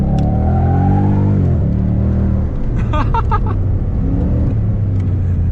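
A Shelby Mustang's engine revs hard through a corner, rising in pitch then dropping back, a loud close rumble under brief voices with tire and road noise.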